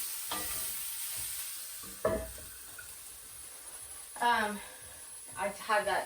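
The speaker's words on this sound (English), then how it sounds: "Just give this a bit of a stir. I can hear it cooking." Chickpeas, broccoli and spinach sizzle in a pan with a steady soft hiss, broken by a few scraping stirs, while someone talks over the cooking.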